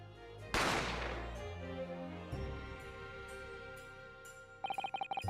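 A loud, sudden gunshot effect from The Great Ace Attorney cracks out and decays over a sustained musical chord. A rhythmic ringing pattern follows near the end.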